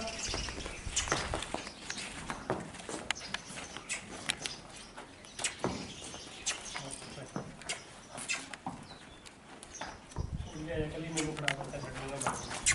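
Hooves of a Nukri mare clip-clop irregularly on hard ground amid creaks and light shuffling, with a voice calling out near the end.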